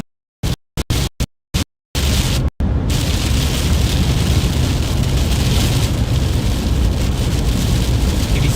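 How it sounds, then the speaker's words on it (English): Heavy rain starting to fall during a strong thunderstorm in Missouri, a dense, loud, steady roar that sets in abruptly after a few sharp bursts and continues without voices. "Oh, here comes the rain."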